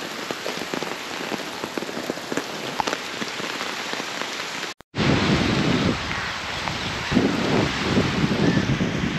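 Heavy rain pours steadily on a surface at Karkatta, a dense drumming hiss with scattered drops, briefly cutting out midway before resuming even louder.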